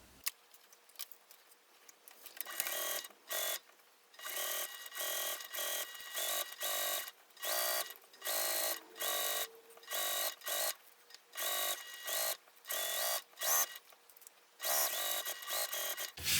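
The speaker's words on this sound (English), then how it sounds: "I'm going to sew down both long edges" Sewing machine stitching down the long edges of a bag strap: loud, close, steady mechanical whirring in repeated bursts of a second or so, separated by short pauses, with no talking.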